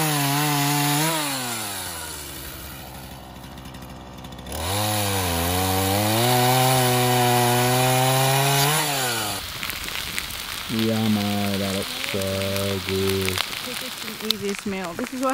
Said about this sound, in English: We've got the good old chainsaw.